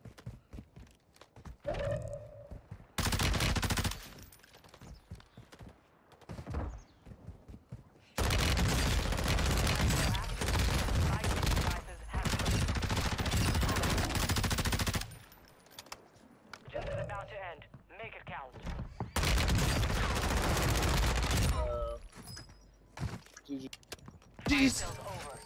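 Warzone 2 gunfire comes in long sustained bursts of rapid automatic shots, separated by quieter gaps where players talk excitedly over the game.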